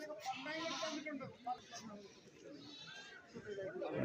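Goats bleat at a goat market in Kerala, several short wavering calls close by amid people talking and the bustle of the trading ground.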